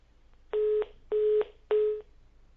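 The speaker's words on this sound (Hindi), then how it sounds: "आपका फोन डिस्कनेक्ट हो गया है" Phone line tones on a dropped caller's line during a live Hindi TV call-in debate: three even, steady beeps of about a third of a second each, spaced evenly over faint background hum, with no talking.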